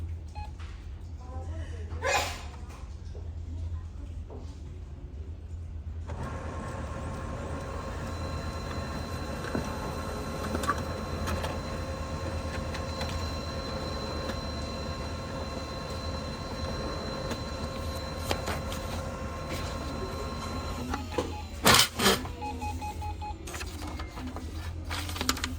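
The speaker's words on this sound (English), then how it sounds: "The printer will print a report page containing information about the toner, cartridge, drum unit," A Brother MFC-L2701DW laser printer prints a report page after a drum unit replacement, its steady mechanical whir and feed hum running continuously for about fifteen seconds, close by, ending with a few sharp clicks.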